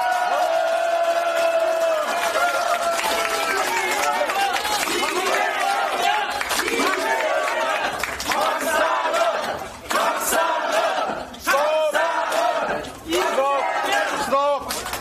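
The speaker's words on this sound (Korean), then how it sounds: "다시 한번 손뼉이 터져라 큰 박수 부탁드리겠습니다" A large crowd at a Democratic Party rally in Jongno, Seoul, greeting party leader Lee Jae-myung with loud, sustained cheering and shouting, an amplified voice over them, and sharp bursts of noise toward the end.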